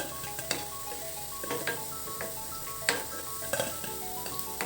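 Crispy potato balls fry in hot oil until golden brown, with a steady close sizzle broken by sharp metallic clinks and scrapes of stirring at irregular intervals.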